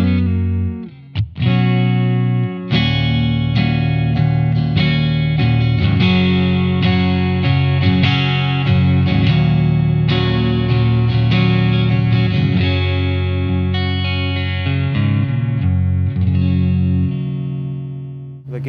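Electric guitar played on the neck pickup through a Blackstar AMPED-1 100-watt pedalboard amp on its US channel, clean with plenty of headroom and little breakup; sustained chords and single notes ring out loud and close, with no talking.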